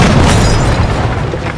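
A loud, deep explosion from the tactical game Jagged Alliance 3 fills the whole moment, a heavy booming rumble with crackling debris that barely fades.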